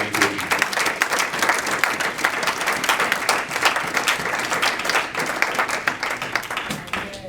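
A church congregation applauds together, steady dense clapping filling the space with a few voices calling out over it.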